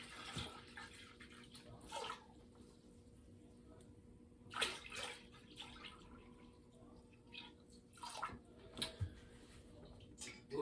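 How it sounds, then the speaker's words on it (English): Water is poured in to bring a sugar wash up to 5 gallons, heard as faint, intermittent splashes and drips over a quiet background hum, with no talking. "this should be just enough water here to get it up to 5 gallons"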